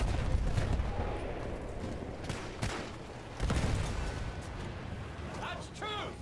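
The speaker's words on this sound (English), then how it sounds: "Next up, the artillery." Artillery fire in the first-person shooter Battlefield 1, with heavy booms and bursts of gunfire over a rumbling battlefield, some sharp cracks standing out, and a voice speaking briefly.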